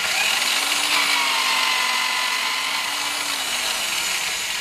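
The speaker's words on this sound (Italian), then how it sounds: "questo è un gran bel trapano, c'ha due regolatori" A power drill grinds steadily against a river stone, cleaning off calcite, limestone and clay deposits, with a continuous loud whine and slight pitch wavering throughout and no talking.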